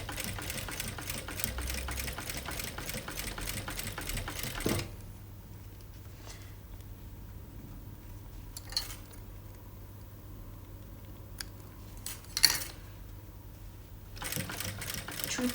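A sewing machine stitches bra cups onto the base of a top in a fast, close rattling run. A quiet pause with a few light clicks and taps follows before the stitching starts again briefly.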